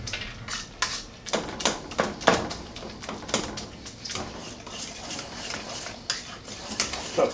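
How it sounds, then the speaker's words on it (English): A metal potato masher pounding and scraping through thick split pea soup in a pot, a steady run of close, clattering clanks and wet squelches at an uneven rhythm. "take the potato masher, or if you have a metal ladle, you can just use a metal ladle and just kind of smash this too"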